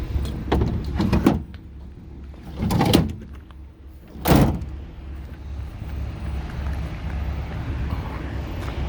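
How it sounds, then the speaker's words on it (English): The power sliding rear window of a 2019 Ford F-150 Limited 4x4 pickup moves with a few short mechanical bursts, near and moderately loud, against a steady low idle hum. "power sliding back window"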